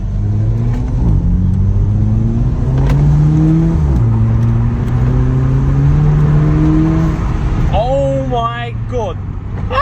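A VW Polo GTI 6C/6R fitted with a Racing Line induction kit revs and accelerates through climbing engine pitches with gear-change dips, loud and close, and excited voices break in near the end.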